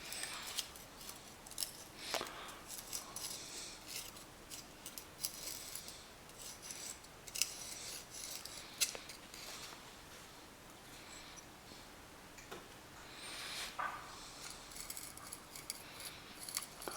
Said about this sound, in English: I'm just scraping the top of the fin. I'm not scraping the top of the head at all.